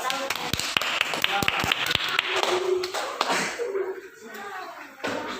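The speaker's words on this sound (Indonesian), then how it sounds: "Nah, tepuk tangan ya" A class of children claps hands in a quick burst of sharp slaps, then the clapping fades and a few voices speak.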